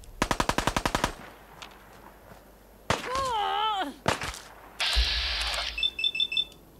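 Video game gunfire in Fallout 4, a rapid burst of about a dozen sharp automatic shots, then warbling electronic tones, further cracks and a buzzing alarm-like blare, loud and close with little talk.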